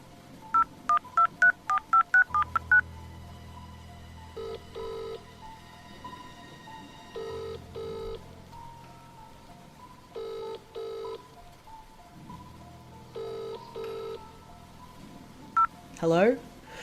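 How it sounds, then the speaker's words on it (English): Mobile phone dialled to call someone, with a quick run of bright key beeps followed by repeated paired ringback tones over a low hum, ending with a brief electronic chirp. "I picked up my phone and called my cousin."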